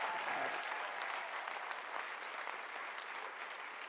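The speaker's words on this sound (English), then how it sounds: "can we all give them a round of applause, please, for giving up?" A theatre audience at a post-show education forum applauds the actors, a soft, steady wash of clapping from a room full of people, fairly faint and even throughout.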